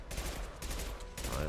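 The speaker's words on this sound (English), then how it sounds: "Firing concussive shot." In Mass Effect 2, a concussive shot weapon fires a loud, dense burst of booming, crackling impacts that fills the short moment at close range.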